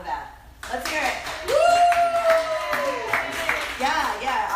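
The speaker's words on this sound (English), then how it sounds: "Everyone clap for that. Let's hear it." A few people clap together in a home kitchen while chicken roasts in a Bundt pan, a short burst of quick hand claps mixed with voices and a cheering whoop.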